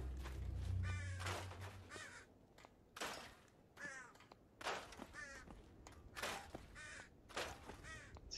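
Crows in the Fallout 4 video game caw repeatedly in loud, close bursts over roughly eight seconds, calls overlapping with one another in an irregular rhythm.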